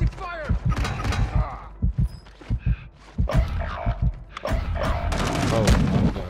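Gunfire from the video game Call of Duty: Modern Warfare II: repeated sharp bursts and single shots, loud and close, scattered across the whole stretch, with voices talking over parts of it.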